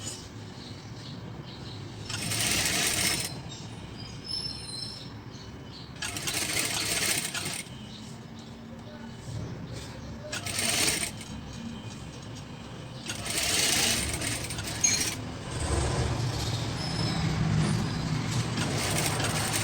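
Sewing machine stitching two fabric layers of an embroidered reversible face mask, running in several loud bursts of rapid whirring separated by quieter pauses, with no talking.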